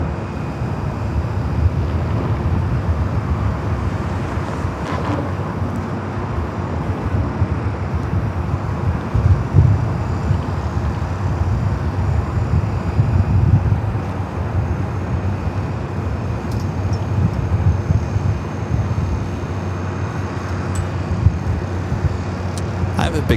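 Airliner jet engines roar steadily at LAX in Los Angeles during a north-side takeoff, a continuous low rumble with wind buffeting the microphone that holds for the whole stretch.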